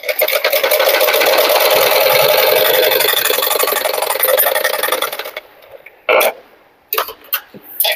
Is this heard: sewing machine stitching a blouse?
yes